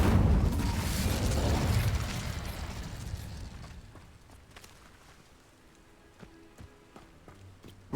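An Incendio fire spell cast in Hogwarts Legacy bursts with a loud whooshing blast that roars and then fades over a few seconds, followed by quieter scattered clicks and pops.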